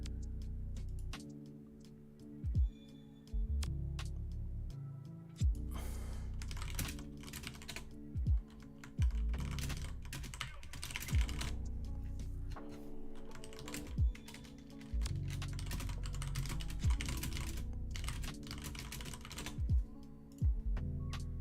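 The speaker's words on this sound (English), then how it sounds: "I'm typing to people." Typing on a computer keyboard, quiet close-up key clicks in irregular bursts with short pauses and occasional louder keystrokes, no voices.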